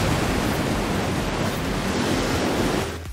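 A car in Forza Horizon 4, a lifted monster-truck-style build, ploughs into water with a loud, steady rushing splash and wash of spray that holds for about three seconds before easing off.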